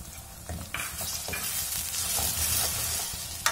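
Tomato puree goes into a hot pan of frying onions for an egg curry, a sudden wet hiss rising into steady close sizzling with light stirring scrapes.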